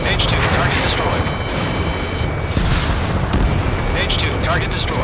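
Missile impacts and explosions from the Ace Combat 7 combat flight game boom over a constant roar of jet engine noise, loud and dense, with radio voices talking and short electronic alert tones.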